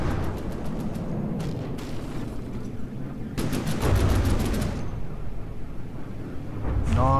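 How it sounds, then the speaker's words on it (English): Torpedo explosions in the naval combat game From The Depths, a run of broad booming blasts and crackling bursts rolling one after another, loud and close, with scattered sharp impacts throughout. "Nice booms from the torpedoes."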